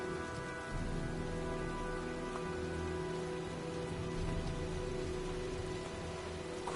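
Steady rain pours through a storm scene in the video game Heavy Rain, a constant close wash of falling water with a low hum beneath and no voices.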